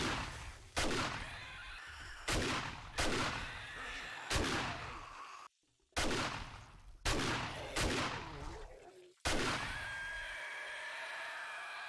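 Rapid, loud auto shotgun blasts in 7 Days To Die, about seven heavy booming shots spaced roughly a second apart with reverberant tails, the last one ringing out into steady background noise.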